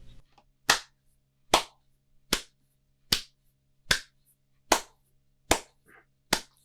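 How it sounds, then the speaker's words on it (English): Hands clap alone at a slow, steady tempo, eight sharp, evenly spaced claps close by with silence between each. "If you clap"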